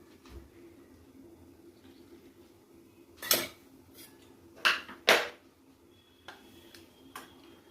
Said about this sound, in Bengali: দুধটাকে গুলিয়ে নিচ্ছি